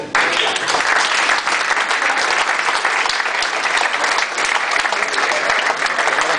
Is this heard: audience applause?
yes